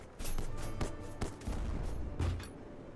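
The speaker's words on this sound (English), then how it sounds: "Hold aim cannons. Release. Volley." A ship's cannon volley in a video game: several sharp booming shots fired in close succession, loud and near, over a constant rumble of background sound.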